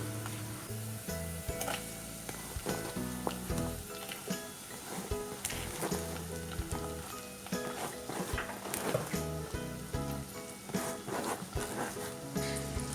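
Chopped onions and shallots sizzle and fry in hot oil with ginger and garlic in a pan, a steady close crackle broken by stirring clatter throughout, with no talking.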